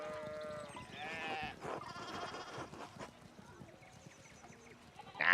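Sheep in the video game Pentiment bleat several times in wavering calls over soft game ambience, with spoken character dialogue around them and a sharper sound at the very end.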